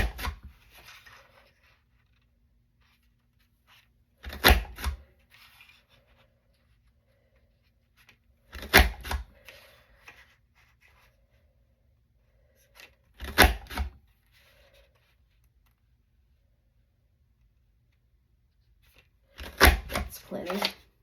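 Paper is cut for a Valentine's Day scrapbook page in four short clusters of crisp snipping and crunching, each separated by several seconds of near silence.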